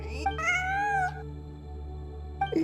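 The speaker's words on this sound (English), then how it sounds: "It really is a cat." A cat meows in a video game, one drawn-out cry followed by a brief second call at the end, over a steady low ambient hum.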